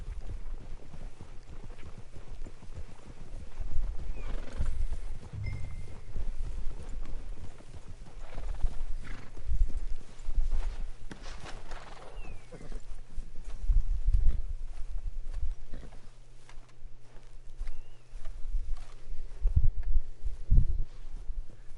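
Horses in Red Dead Redemption 2 clip-clop along in an uneven, continuous rhythm of hoof thuds under a low ambient rumble, with an occasional faint whinny.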